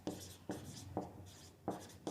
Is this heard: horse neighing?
no